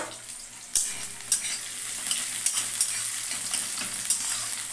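Onions fry in a pan for a chicken dish, a constant sizzle punctuated by repeated sharp spatula knocks and scrapes at irregular intervals, with no voices.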